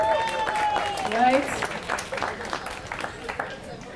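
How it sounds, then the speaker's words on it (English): Audience applause at a comedy show, clapping and cheering rising briefly under a comic's voice as people talk over it. "Round of applause."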